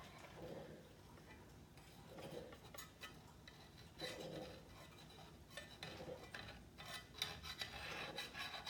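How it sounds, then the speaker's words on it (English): Knife slicing through a baked cornbread, quiet scraping and rasping strokes in short repeated bursts with light clinks of the blade against the pan. "I'll go ahead and cut a slice for you."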